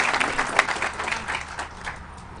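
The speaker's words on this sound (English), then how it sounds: "Give them a nice round of applause." Outdoor Memorial Day ceremony audience claps on a morning gathering, a moderately loud burst of applause that peaks early and gradually thins out toward the end.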